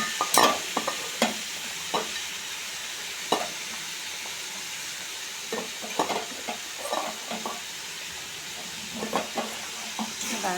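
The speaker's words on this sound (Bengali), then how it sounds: "ডালটা দিয়ে দিলাম, ডালটার সাথে ভালো করে কষে নেবো।" Masoor dal being stir-fried with vegetables in a wok, a constant sizzle broken by repeated sharp scrapes and knocks of the spatula, close and clear with no voices.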